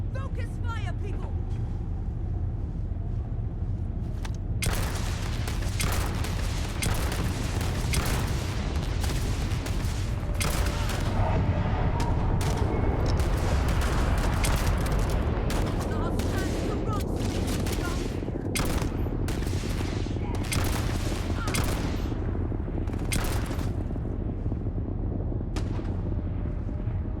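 Sustained gunfire from a Starfield firefight runs loud and continuous throughout, with rapid shots, heavy booms and layered weapon noise, close and dense.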